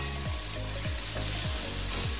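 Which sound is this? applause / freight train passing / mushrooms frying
mushrooms frying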